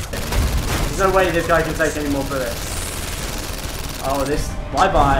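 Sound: gunfire in PlayStation VR Worlds video game

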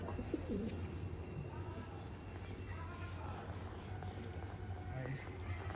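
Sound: racing pigeons cooing

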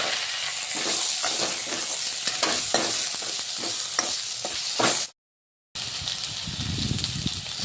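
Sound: frying tomato, garlic, ginger and garam masala in a pan

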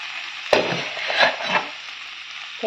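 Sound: stirring food in a pot with a ladle

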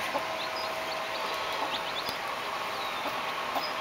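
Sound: baby chicks with their mother hen

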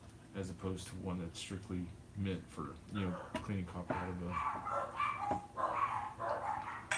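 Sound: dogs barking

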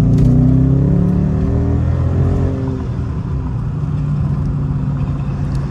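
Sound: Dodge Charger RT engine revving in sports mode

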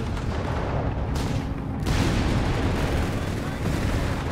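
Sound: 6-pounder anti-tank gun firing in video game Company of Heroes 3

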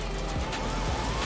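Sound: police car siren in Grand Theft Auto V video game

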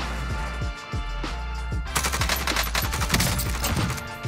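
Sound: QBZ rifle gunfire in the video game PUBG

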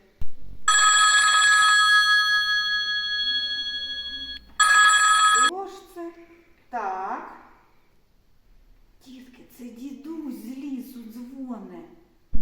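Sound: telephone ringing

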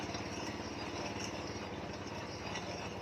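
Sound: drill boring a large hole at slow speed

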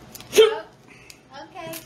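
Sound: hiccups after eating a hot chip

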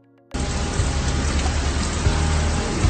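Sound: heavy rain in a TV scene

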